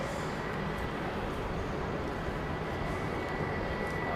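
An Emirates Boeing 777 fast taxiing at Heathrow, a steady broad roar of jet engines held at an even loudness throughout.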